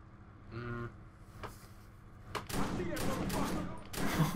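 Gunfire from the video game Watch Dogs: a loud burst of several shots and impacts in the second half, following a brief sung or tonal sound and a voice earlier.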